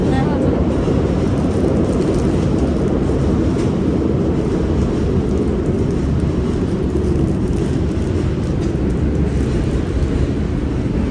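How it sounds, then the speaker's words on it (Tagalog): A train rumbles past nearby in Kannai, Japan, a steady loud mechanical roar with rattling that continues throughout. "Maingay ang tren."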